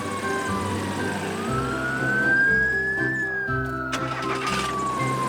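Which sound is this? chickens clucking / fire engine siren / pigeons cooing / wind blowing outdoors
fire engine siren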